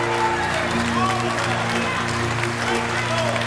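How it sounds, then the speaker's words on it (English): A church congregation at a Sunday homily claps for someone, a steady wash of applause and crowd noise with a voice speaking over it throughout. "Give him some hand claps,"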